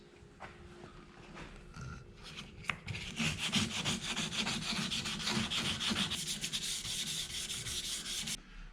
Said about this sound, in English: buff the headlights